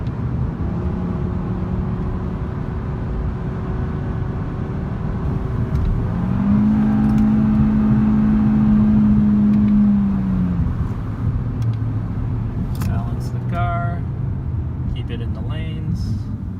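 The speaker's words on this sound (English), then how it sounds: "Now we're just going to take this a little faster, just to show you what this car can do." A 2018 Audi RS3 engine revs and accelerates steadily, its whirring rising and holding loud, then easing off, with road noise throughout.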